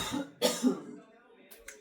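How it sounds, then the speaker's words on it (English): A person in a home kitchen baking a cherry bundt cake coughs twice in quick succession, close and moderately loud, followed by a quieter throat sound and soft breaths. "And every time I do that, it always makes me cough."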